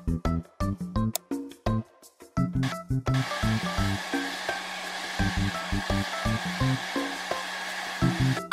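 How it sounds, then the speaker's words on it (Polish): A hair dryer blows on a wet toy kangaroo in a children's video game, a steady whooshing stream that starts and stops with mouse clicks, over bouncy background music. "Chwyć za suszarkę i z wciśniętym lewym przyciskiem myszy wysusz kangurka."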